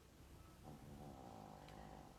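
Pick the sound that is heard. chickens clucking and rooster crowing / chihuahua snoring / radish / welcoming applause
chihuahua snoring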